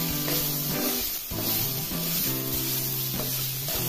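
Potatoes frying in oil in a pan for a mix veg bhaji, a continuous close sizzle with a steady hiss and tonal bands layered underneath.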